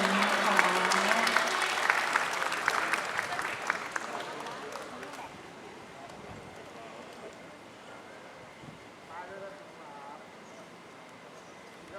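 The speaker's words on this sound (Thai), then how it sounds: "ขอเสียงปรบมือให้กับนักกีฬาอีกครั้งหนึ่งนะคะ" An audience at a tennis victory celebration for Southeast Asian Games gold medalists claps for the athletes, a burst of applause that fades out after several seconds into quieter room noise with faint voices.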